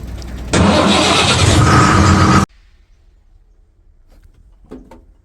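A fourteen-wheel lorry engine roars loudly and steadily for about two seconds as the truck maneuvers into a tight turn, then cuts off abruptly, leaving low rumble and a faint brief knock near the end.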